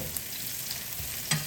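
Garlic and shallot frying in a pan for pad Thai: a steady, close sizzle with one short clack of stirring near the end.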